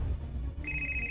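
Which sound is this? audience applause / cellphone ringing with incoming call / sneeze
cellphone ringing with incoming call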